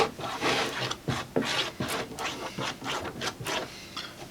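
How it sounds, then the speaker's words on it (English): A glue spreader is dragged back and forth across a wooden board on a flip-top tool stand, spreading the glue coat. It makes close, steady rasping scrapes in repeated strokes, with no talking. "I use my spreader here to get this all spread out"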